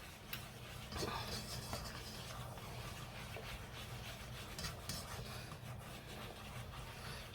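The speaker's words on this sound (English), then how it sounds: "Stir this up just a little bit." Homemade beer cheese dip for pretzels stirred in a bowl, giving a steady, close rubbing and scraping sound that runs the whole time with no voice over it.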